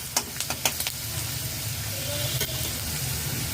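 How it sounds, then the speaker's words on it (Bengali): Chilli, turmeric and cumin powder frying in a pan for pav bhaji, a close, steady sizzle and hiss with a few quick clinks and scrapes of a spoon stirring near the start and again midway, no voice. "একটা চামচ জিরার গুঁড়ো অ্যাড করে দিয়েছি নাড়াচাড়া করে নিলাম"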